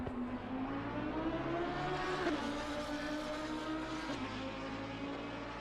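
A Lamborghini race car engine in the racing game Assetto Corsa Competizione at the Kyalami circuit, droning steadily at high revs with a brief dip on each gear shift, with a second engine tone humming beneath.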